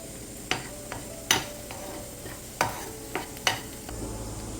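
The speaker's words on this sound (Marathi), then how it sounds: "हा कांदा आपल्याला लालसर होईपर्यंत तेलावर परतून घ्यायचा आहे" Finely chopped onion frying in hot oil while being stirred, with a steady low sizzle under scattered sharp scrapes and clinks of a spoon against the pan, close and fairly quiet.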